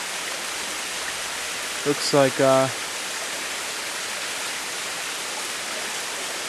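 Water runs steadily through a small stream beside a pond, a constant soft rushing hiss that fills the whole stretch, with someone briefly speaking over it.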